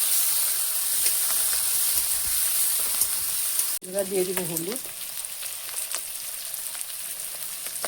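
Fish maw and crumbled egg fry with tomato and potato in a steady, loud sizzle; something is dropped into the pan partway through, and someone speaks briefly over the hiss.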